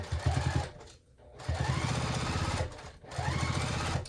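A sewing machine stitches the seam of a Penny wristlet clutch in three short, rapid, rhythmic runs separated by brief pauses, close and moderately quiet.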